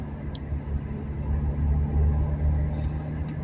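Steady low engine rumble and road noise from inside a moving car, continuous and even throughout with no talking.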